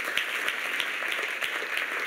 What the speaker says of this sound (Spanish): Le da ese aplauso